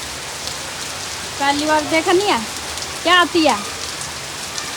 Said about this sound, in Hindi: हवा भी आंधी भी आ रही है, बारिश भी आ रही है साथ ही साथ